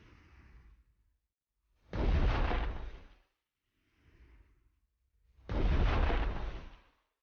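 Heavy artillery fire and explosions in the WWII naval strategy game Strategic Mind: The Pacific: two loud, roaring blasts, each lasting over a second, separated by quieter rumbling in between.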